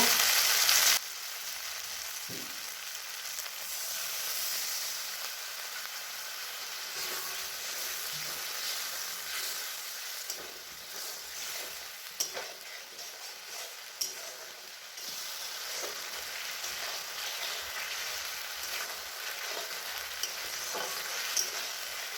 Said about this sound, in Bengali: মশলাটা কষানো হচ্ছে আর একটু কষিয়ে নেবো